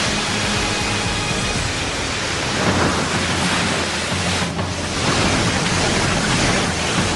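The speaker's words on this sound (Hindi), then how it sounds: "चियांगटांग नदी का टाइडल बोर 40 किलोमीटर प्रति घंटे की रफ्तार से आगे बढ़ता है।" A tidal bore on the Qiantang River surges forward as a continuous, loud, broadband roar of rushing water, steady throughout with a slight swell in the middle.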